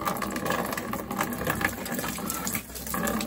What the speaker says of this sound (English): so now it's filling up and we get air out of the heat exchanger